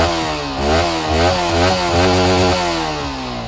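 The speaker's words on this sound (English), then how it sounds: "With that is this side hung single barrel exhaust." A Yamaha MT-15 V2.0 single-cylinder motorcycle revs through its side-hung single-barrel exhaust, the raspy engine note rising and falling in several quick blips, close and loud with no talking.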